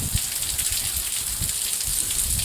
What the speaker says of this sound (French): Il pleut fort.